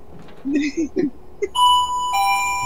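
Doorbell in the Resident Evil HD Remaster video game, a clear ringing ding-dong chime that sustains and rings out after some brief speech and vocal sounds.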